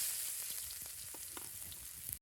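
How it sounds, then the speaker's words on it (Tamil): Finely chopped onions fry in oil in a kadai for village-style Maggi noodles, giving a faint, steady sizzle dotted with small crackles. "2 வெங்காயம் பொடுசாக கட் பண்ணி போட்டுக்கலாம்."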